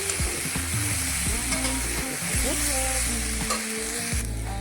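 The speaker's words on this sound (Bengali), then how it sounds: "এইভাবে এখন ভাজাটা শুরু করবো ভাজা দেবো সবটা ভেজে দেবো" Steady crackling sizzle of food frying in hot oil, with scraping and stirring sounds throughout, close and fairly loud, no talking.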